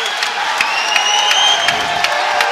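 Arena crowd at a jiu-jitsu European Championship cheers loudly and steadily, a dense wash of voices and whoops with scattered claps throughout.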